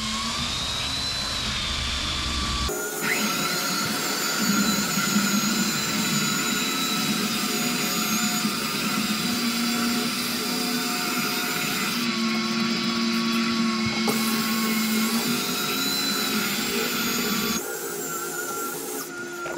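A belt sander grinds over epoxy-filled spots on a wide-board pine floor, a loud, steady motor whine with a rough abrasive hiss, running continuously and shifting in tone as pressure changes.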